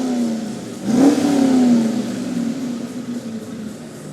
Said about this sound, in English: We'll let you hear some of the engines revving until we come to them.